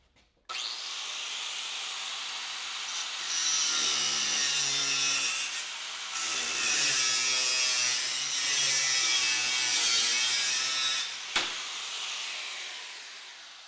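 A hand saw cuts a 45-degree miter through wood for a coffee table, giving steady rhythmic back-and-forth rasping strokes that run close and loud for about eleven seconds, with no talk.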